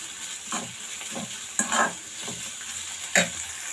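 Vegetables including carrot stir-frying in a pan, a soft sizzle punctuated by several sharp spatula scrapes and clanks.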